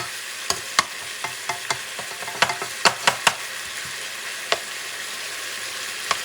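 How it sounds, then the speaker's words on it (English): Chopped onion sautés in a pan with a soft continuous sizzle, punctuated by a dozen or so sharp utensil clicks and taps against the pan as it is stirred, close and fairly loud, with no talking. "You're going to saute this baby on the side."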